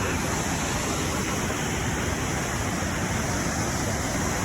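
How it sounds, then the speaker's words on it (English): A roaring waterfall at a scenic falls near Hamilton, Victoria, as a steady, broadband rush of falling water that stays loud and even throughout, with no pauses or talk over it. "Here we are, this is the falls."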